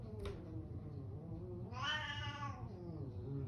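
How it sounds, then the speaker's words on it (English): A cat hisses and caterwauls near a Miata during a speaker replacement, with a short sharp hiss first and then a strained, rising yowl, heard close over a low steady background hum. "That was a cat hissing."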